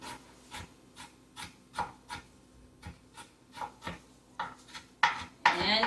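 A knife chops red onion finely on a wooden board in a steady series of quick, crisp taps, close and fairly quiet, ending in a louder burst of scraping near the end.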